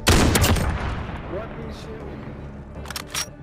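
A heavy AX50 sniper rifle blast opens loud and close in a first-person shooter game, its boom rolling off over a second, followed by fainter game sounds and brief voice chat.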